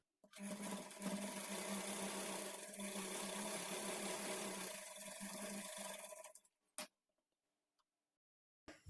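A sewing machine runs one long continuous stretch of stitching along a lined blouse side seam, steady and fairly loud, then stops abruptly and is followed by a couple of brief clicks.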